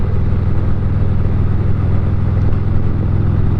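A motorcycle cruises along a road with a loud, steady low engine drone and constant rumble, unbroken and with no voices.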